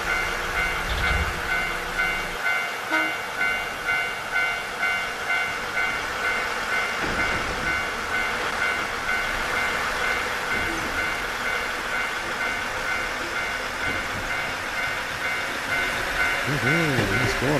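Train running in the game Nostalgic Train, a steady rumbling of wheels on rails with a sustained tonal hum, continuous and fairly loud throughout, with a rising whistle-like tone near the end.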